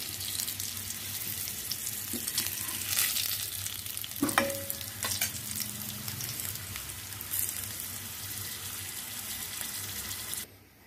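Mustard oil heats and fries in a pan with a steady crackling sizzle, broken by occasional utensil knocks and scrapes, then cuts off abruptly at the end.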